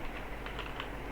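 Typing on a computer keyboard while entering Python code, a steady run of soft, close key clicks with no talking.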